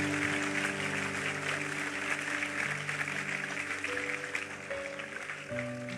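Church congregation applauding after a sermon, dense steady clapping filling the room throughout, with music sustained underneath and no talk over it.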